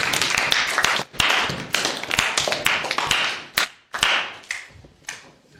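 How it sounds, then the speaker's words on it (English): A classroom audience gives a round of applause, a burst of close hand claps that rattles on briefly and then tapers off to scattered claps. "everybody give a round of applause"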